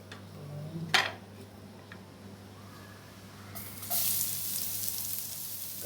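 Cooking oil sizzles faintly in a pan while stir-fried eggplant with minced pork is prepared, a soft steady hiss with a brief clink early on and a louder, brighter surge of frying near the end.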